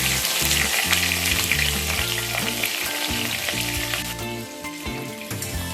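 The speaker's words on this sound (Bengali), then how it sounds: "এই তেলের মধ্যেই আমি একে একে কিছু সবজি ভেজে তুলে নেব। প্রথমে আমি বেগুনগুলোকে দিয়ে দিচ্ছি।" Eggplant pieces frying in hot oil for shukto, a loud, steady crackling sizzle with bursts of spatter, close up and continuous with no voices.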